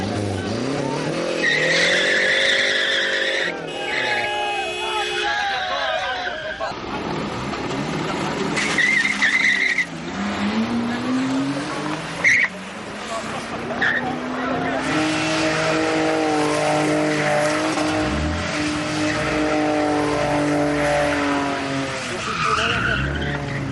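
Cars race illegally through Bucharest streets with revving engines and long screeching tire skids, loud and close, the squeals rising and falling repeatedly, with voices talking underneath.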